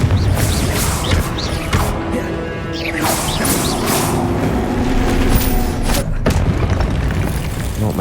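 Repeated booming spell blasts from the Confringo explosive curse in the Hogwarts Legacy video game, loud and dense over continuous combat noise, with crashes and impacts throughout.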